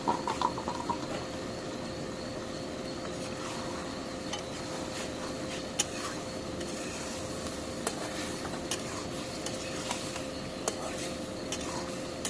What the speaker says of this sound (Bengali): নাড়া দিয়ে দিব।